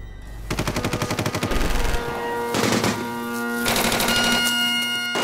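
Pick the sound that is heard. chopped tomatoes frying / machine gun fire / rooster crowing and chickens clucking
machine gun fire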